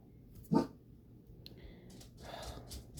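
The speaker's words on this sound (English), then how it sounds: "my dogs are going nuts. Every little noise, it's something to bark at." A single short dog bark close by on a windy day, followed by soft rustling and breathy noise in an otherwise quiet space.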